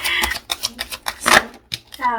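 Tarot cards rustle and slap in quick irregular bursts, a close shuffling sound, with a voice speaking briefly toward the end.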